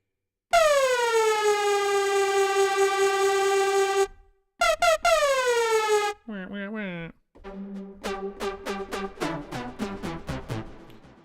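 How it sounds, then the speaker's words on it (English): A dubstep siren lead patch from the AudioKit A2X synthesizer plays loud sustained notes that sweep and bend in pitch, then breaks into short stuttering chopped hits with sharp pauses between phrases. "Dubstep siren lead."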